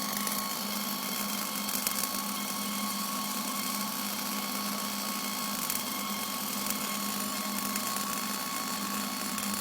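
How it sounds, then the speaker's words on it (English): A Millermatic 211 automatic wire feed MIG welder runs continuously while welding, a steady, moderately loud buzzing hum with a constant crackling hiss and no talk over it. "While he's welding, that wire machine is working."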